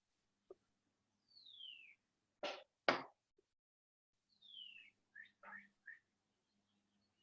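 A pet bird in a pottery workshop gives a few scattered chirps and descending whistles, faint and sparse amid quiet room noise and occasional clicks.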